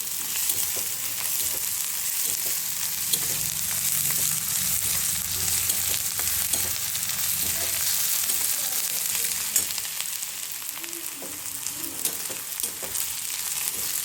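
Onion fries in a pan for a green chickpea bhaji, a dense, continuous sizzle holding steady throughout with faint stirring clicks underneath, close up and with no voices.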